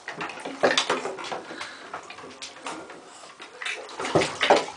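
Water runs and splashes into a bathtub where a baby sits, a close, uneven rush with sloshing bursts rising and falling, and no talking over it.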